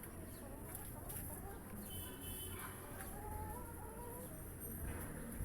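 A chicken clucks faintly indoors, giving soft scattered clucks over a low, steady background hum.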